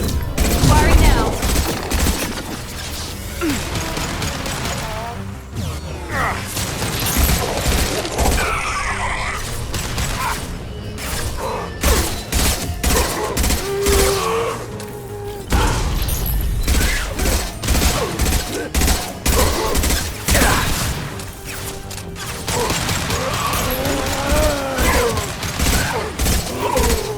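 Loud, dense volleys of sci-fi weapon fire from Mass Effect 2 crackle in rapid bursts with brief pauses across nearly half a minute, mixed with mechanical clatter and occasional shouted voices.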